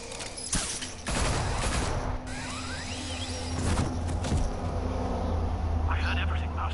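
Bursts of gunfire in Batman The Telltale Series, a volley of sharp shots and whooshes under shouting voices and game dialogue, fairly loud and close.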